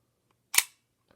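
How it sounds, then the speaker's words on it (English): Shutter release of a 1980 Zorki 1 rangefinder film camera with an Industar 50 lens, a single sharp mechanical click close to the mic, followed by a faint softer tick. "So that's what the shutter sounds like."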